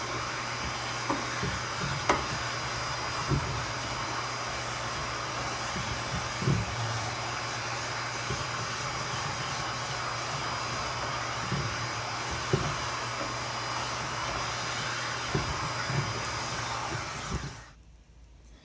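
A vacuum cleaner drones close up while cleaning the baffle of a Regency i2400 stove, with scattered knocks and scrapes of the nozzle over the metal before the motor cuts off near the end.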